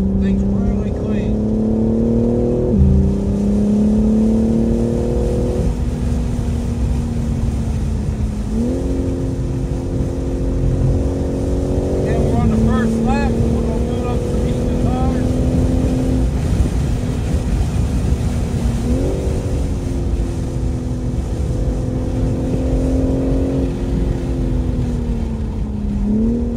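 BMW E92 race car fitted with a supercharger on a track, its engine droning loudly with repeated rising pitch sweeps as it accelerates through the gears, heard from inside another car, with people talking over it.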